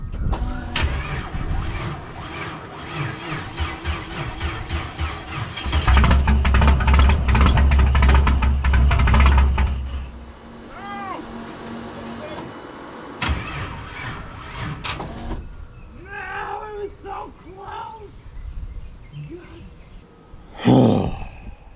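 A no-prep drag race car's engine starts and runs, loud and close, with a heavy low rumble swelling partway through before dropping back to a rough, uneven idle with occasional revs.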